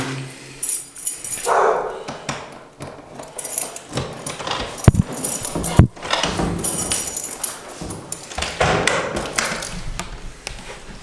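A dog moves around nearby with panting and snuffling, scrabbling paws and a few knocks, while a person talks to it over the activity.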